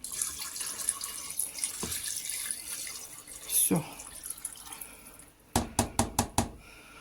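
Water is poured into a pot over rice for pilaf, with a few soft splashes and knocks, followed by a quick series of sharp taps or knocks near the end.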